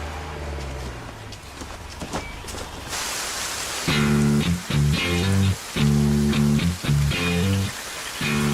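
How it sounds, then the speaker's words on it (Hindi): Heavy rain pours onto a football field, a dense steady hiss that is soon joined by loud rhythmic music chords pulsing over the downpour. "हर तरफ जोरों से बारिश हो रही है।"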